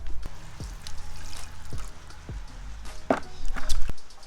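Water is poured into a 4x4's rear water tank holding around 25 litres, a low steady rush broken by a few sharp knocks and splashes, close and fairly loud.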